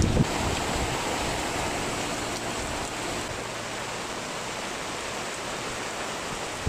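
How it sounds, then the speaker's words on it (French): Heavy rain pours steadily and loudly on a boat during a thunderstorm at a regatta, a dense unbroken hiss with no voices. "Là pour le coup, ça pleut costaud."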